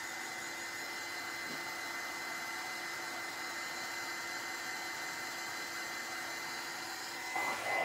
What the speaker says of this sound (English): So now I let it dry a little bit with the heat gun.